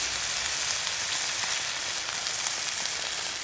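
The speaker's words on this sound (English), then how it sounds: "So we're gonna deglaze the pan, add a little bit extra." Beef broth poured into a hot pan to deglaze it for gravy, a continuous close crackling sizzle with no talk.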